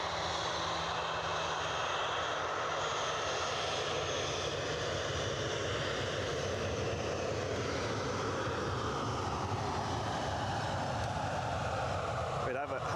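Aircraft taxiing and taking off at Edinburgh Airport on runway 06 give a steady, loud broadband engine roar that holds for the whole stretch and swells slightly, with no pauses.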